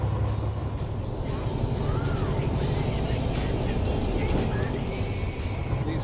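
A semi truck climbs a steep hill with the driver changing gears, its engine a steady, loud low drone throughout with no distinct breaks, running alone.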